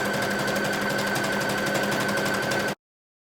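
A sewing machine runs steadily while stitching fabric for a dress strap, a fast continuous needle rattle lasting close to three seconds before stopping abruptly, loud and near with no voices.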